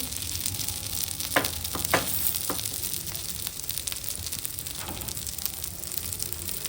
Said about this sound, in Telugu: ఫ్లేమ్ మీడియంలో పెట్టుకుని 2 వైపులా నెయ్యి వేసుకొని కాల్చుకోవాలండి.